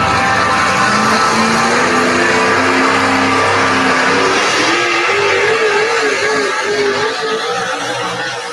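Drag racing car engine revving hard at an NHRA event, loud and continuous with a wavering pitched roar over crowd and track noise, easing slightly at the end.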